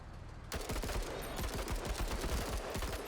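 Sustained rapid gunfire from the turn-based tactical game MENACE, a burst of closely packed shots that starts abruptly after a short pause and keeps up a dense, rattling volley.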